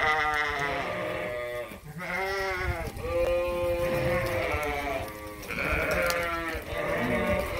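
Dorset sheep bleat loudly and repeatedly inside a barn during sorting, several overlapping calls one after another with hardly a pause.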